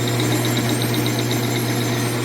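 Metal lathe turning a bar of poor-quality steel at low spindle speed, giving a steady, close, continuous machining drone with a faint rhythmic whir, no talk.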